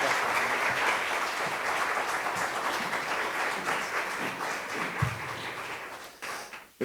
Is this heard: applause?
yes